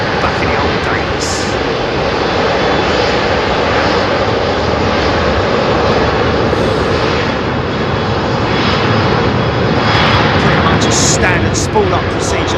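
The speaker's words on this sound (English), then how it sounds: "Standard spool-up procedure with the CF6." A CF6 jet engine spooling up, likely on a 747 at London Heathrow, gives a loud, steady, broadband roar throughout with no pauses, and faint voices mixed in.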